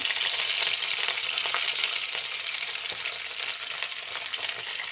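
Curry leaves hit hot oil with mustard seeds, ginger and garlic for a pickle made from ripening mango, a bright continuous sizzle and spatter heard close, with faint stirring clinks and no talking.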